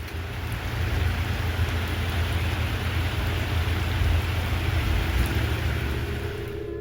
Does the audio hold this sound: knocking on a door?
no